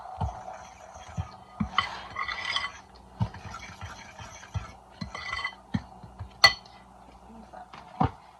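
Flour, baking powder, salt and cinnamon being mixed in a bowl, heard as a series of light scrapes and clinks of a utensil against the bowl in an uneven rhythm, quiet and close.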